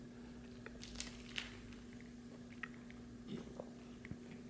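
Someone bites into and chews a poppy and sesame lox bagel with cream cheese and its crunchy crust, making faint, close, irregular mouth sounds with no talking.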